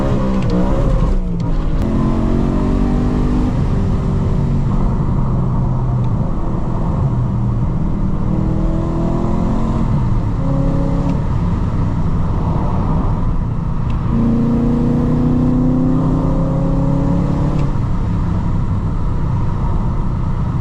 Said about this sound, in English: Alright, let's do a little pull with traction off.